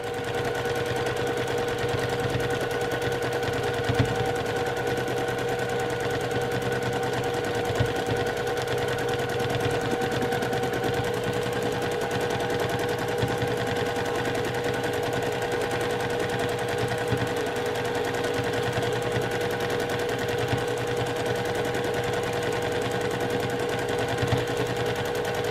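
A sewing machine running continuously while free motion quilting a flying geese quilt, giving a steady, dense, rapid mechanical rattle with a constant hum throughout.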